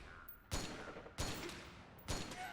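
Three sharp, loud shots from a sniper rifle in the stealth action game Metal Gear Solid 4 ring out at roughly even intervals, each a hard crack trailing into a brief reverberant tail over a quiet game backdrop.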